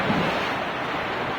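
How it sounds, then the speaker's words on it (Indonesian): Strong sea waves surge and crash over a damaged coastal road strewn with loose paving blocks, a dense, continuous roar of surf mixed with wind buffeting the microphone, with no voices. "paving block yang bertaburan dihantam ombak"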